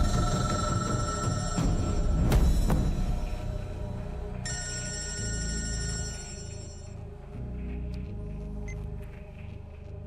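A telephone rings in a tense Hindi film drama scene, its bright electronic tone sounding in repeated bursts over a low background score, with no talk.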